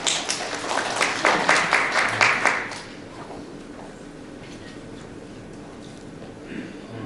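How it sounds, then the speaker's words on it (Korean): Audience applause at a science lecture on the film Interstellar, a dense burst of clapping from a seated crowd lasting a few seconds before fading into a quiet room. "박수 부탁합니다"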